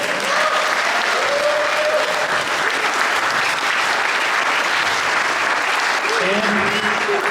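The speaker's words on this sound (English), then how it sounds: "give us a round of applause for all of our attendees today" Sustained applause from attendees at a conference event, dense clapping filling the room throughout. Voices and shouts rise over it at moments.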